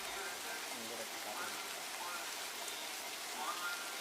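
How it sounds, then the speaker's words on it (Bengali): Cartoon rain comes down as a soft, even hiss at low volume, a steady wash of falling water that continues throughout. "যা বৃষ্টি শুরু হয়েছে"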